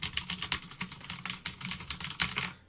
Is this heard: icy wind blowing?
no